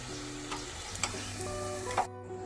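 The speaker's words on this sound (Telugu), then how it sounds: "కొంచెం మంచి కలర్ వచ్చేంత వరకు వేయించుకోవాలి నూనెలో" Sweet corn vadas frying in hot oil, a steady close sizzle with a few light clicks of a utensil stirring, then the sound cuts off abruptly.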